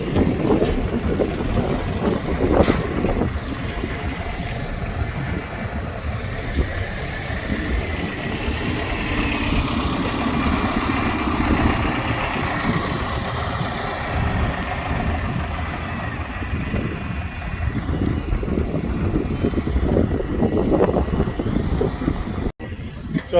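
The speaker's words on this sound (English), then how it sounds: "Sounds of it, 30 litre engine." A 30-litre engine idles steadily at a heritage railway as the vehicle pulls away, a continuous low rumble with a mid-range drone that holds throughout, moderately loud and close.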